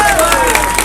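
An audience at a political speech gives a dense wash of clapping, steady and crowd-wide, while a speaker's amplified voice carries over it.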